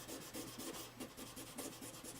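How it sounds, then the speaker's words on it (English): Fine-grit sandpaper polishing the frets of a guitar in a fret-dressing job, a faint, close, rhythmic back-and-forth rubbing with regular strokes a few times per second. "You can hear the sandpaper when it bites in when you first start"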